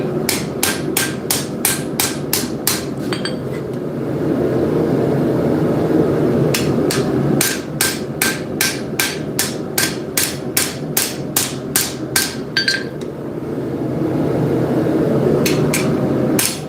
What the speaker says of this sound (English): I'm trying not to just, you know, go crazy hammering on this